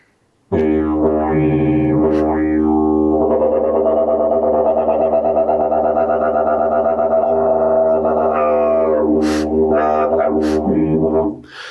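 A sustained, buzzing instrumental tone with shifting, warbling pitches and distorted effects, mimicking a laughing bird call, played alone for about eleven seconds.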